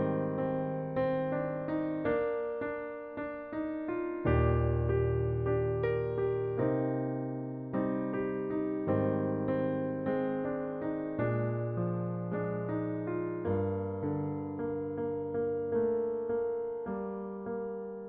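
Solo piano plays the opening eight bars of a piece from La La Land in a gentle, flowing rhythm, with soft chords and melody ringing clearly and alone.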